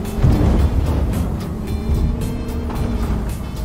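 A construction vehicle engine in Construction Simulator, a steady low mechanical drone that stays loud and continuous throughout with slight swells, and no talking over it.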